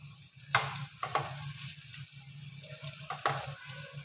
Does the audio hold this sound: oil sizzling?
yes